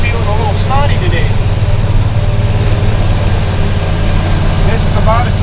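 A 1973 International truck loaded with corn climbing a steep 12% grade, its heavy engine droning steadily and loud throughout with a low rumbling tone, while people talk over it.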